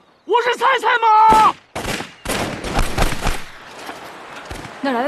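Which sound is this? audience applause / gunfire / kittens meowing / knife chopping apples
gunfire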